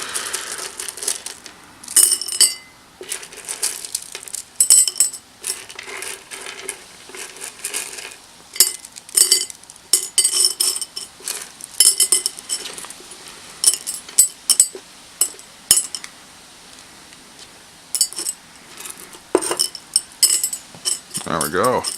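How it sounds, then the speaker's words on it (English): Charcoal pieces poured into the bottom of a one-dollar dollar-store bowl for a succulent desk planter, a run of close, dense clinking and rattling bursts with short pauses between pours. "Same thing as always, charcoal in the bottom of the dish"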